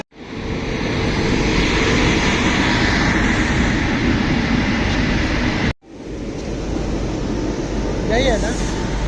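A railway track inspection train runs past close by, a loud steady rumble and roar of the moving cars that drops out briefly and then resumes, with faint voices near the end.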